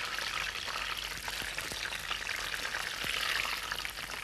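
Mushrooms sizzling in hot fat in a frying pan while being lifted out, a steady dense crackle with occasional scraping clicks of a utensil, close and continuous with no talking.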